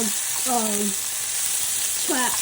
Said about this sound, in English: gonna saute the onions until they're translucent, just a little tender